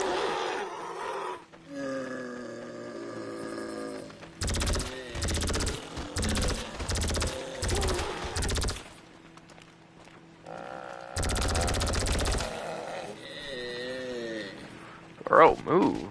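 Bursts of gunfire ring out in Grand Theft Auto Online, a rapid series of sharp shots followed later by another volley, with game sounds in between, and a voice talks over it.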